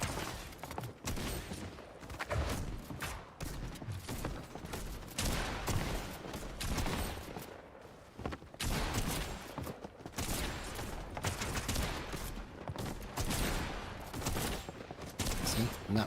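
Dense, nearly continuous gunfire and combat noise from a Fortnite ranked Battle Royale match, with shots packed tightly together at a steady, loud level throughout.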